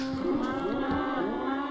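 Cattle mooing in Minecraft, a steady, drawn-out bovine lowing that holds for a couple of seconds, close and fairly loud with no speech.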